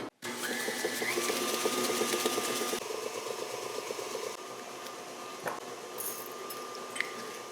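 Electric stand mixer beating sugar and eggs, a steady mechanical whir and rattle running continuously at moderate level, with a slight drop in intensity partway through and no talking.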